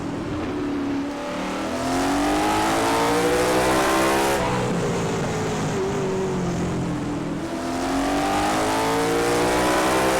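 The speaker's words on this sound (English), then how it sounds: "Greg Kirchmeier trying to hold on to that lead as he's got that 23 car all over the back of him, that Toyota Camry" Late model stock cars, including a Toyota Camry, race at Jefferson Speedway, engines roaring loud and close with rising and falling revs as cars pass, continuous throughout with no voices.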